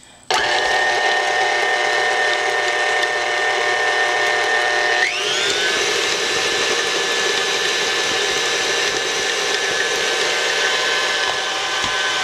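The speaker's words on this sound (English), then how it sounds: "So we're going to put white sugar and brown sugar, and then we're going to mix again." Electric mixer beating white and brown sugar into cookie dough, a loud, continuous motor whine that kicks in sharply, then shifts pitch midway and runs on steadily.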